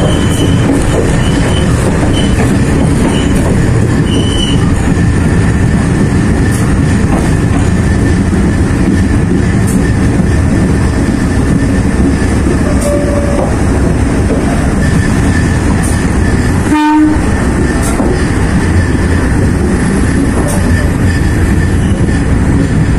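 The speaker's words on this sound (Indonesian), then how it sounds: "saya naik kereta api Penataran tiba di stasiun Gedangan." Penataran passenger train running between Bangil and Surabaya, heard from inside the carriage: a steady, loud rumble of wheels and carriage noise throughout, with a brief sharp burst near the end.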